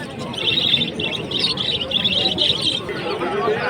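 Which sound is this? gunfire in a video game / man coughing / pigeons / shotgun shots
pigeons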